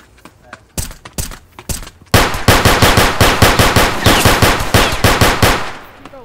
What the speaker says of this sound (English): So I'm gonna shoot 3 times.